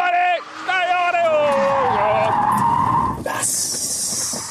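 A car power slides with its tyres skidding and squealing, the loud rising and falling screech sweeping on for several seconds over engine noise, with excited voices shouting close by.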